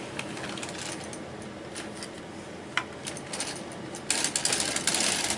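A knitting machine fitted with a ribber knits a row: the carriage makes a continuous mechanical clatter with sharp clicks, and the sound grows louder and brighter toward the end.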